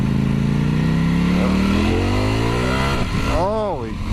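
A Ducati Panigale V4 motorcycle engine accelerates hard, its loud rising whine sweeping up through the gears with a shift near the end, heard close from the rider's position amid wind noise.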